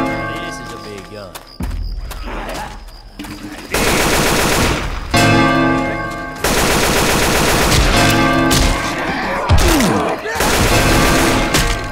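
Heavy gunfire from a big gun in the Left 4 Dead 2 zombie shooter game, loud sustained bursts and rapid repeated shots with a few brief pauses, under occasional speech from players.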